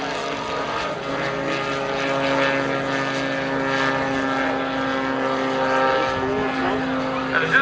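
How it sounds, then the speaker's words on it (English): A gyroplane flown by Roy Davis at the Valkaria Airfest 2012 drones steadily overhead, its engine-driven propeller giving a continuous buzzing hum with a rotor whir beneath, holding a fairly even loudness throughout. "He turns the engine back on to gain that forward airspeed once again, which allows him to climb."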